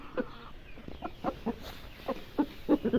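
A hen clucks in short, repeated bursts at close range, with no talking.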